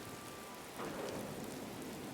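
Steady rain in Disney Dreamlight Valley, a broad, even hiss of falling drops that swells slightly partway through, with no voices.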